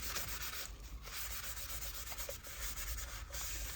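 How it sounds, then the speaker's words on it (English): Paper rubbed by hand onto fabric coated with glue, a steady, dry, close-up scuffing that carries on without pause through the whole stretch. "put your paper on there as evenly as possible, and then you rub it"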